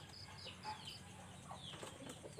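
A flock of pigeons at a loft taking off, a soft flurry of flapping wings fairly close and low in level, a brief rustling burst over quiet outdoor background.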